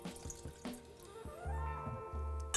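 Pickling liquid trickles over salmon in glass jars in a soft, intermittent pour with small splashes and drips, close and quiet.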